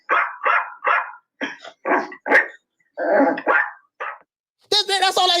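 A voice imitates a small dog's barking: about ten short, sharp yaps in an uneven rhythm, ending in a longer voiced sound.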